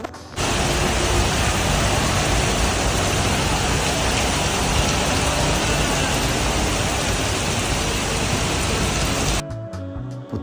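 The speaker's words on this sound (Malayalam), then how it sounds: "മലേഷ്യയിൽ വർഷം മുഴുവനും വല്ലപ്പോഴുമൊക്കെ ഇങ്ങനെ മഴ പെയ്തുകൊണ്ടിരിക്കും" Dense, loud rainfall pours steadily in Malaysia, a constant wide roar of drops on surfaces that holds for about nine seconds and then cuts off abruptly.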